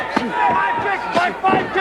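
A crowd at a 1985 professional wrestling match roars and cheers steadily, with rising shouts and screams swelling over the arena noise.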